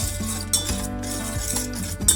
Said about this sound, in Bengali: আগে শুকনো ভালো করে আমি এটাকে মিশিয়ে নেব।